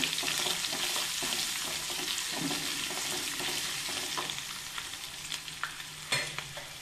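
Oil tempering with ginger, green chilli and curry leaves for avarekalu upma fries in a pan with a steady close sizzle, broken by a few clinks and stirring scrapes toward the end.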